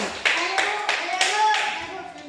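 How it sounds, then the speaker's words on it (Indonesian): Children clap their hands in a classroom during a maths lesson, a handful of bright claps in a loose rhythm over about two seconds, with the teacher's voice and classroom chatter underneath. "tepuk tangan untuk Ogi."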